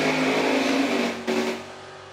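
Door cars launching off the line at a drag racing event, a loud sustained engine roar that holds steady, dips briefly and then carries on before easing slightly, with no talk over it.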